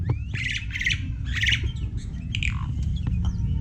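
Caged songbirds, including white-vented mynas, sooty-headed bulbuls and canaries, call close by in bursts of harsh squawks and sharp chirps over a steady low background rumble.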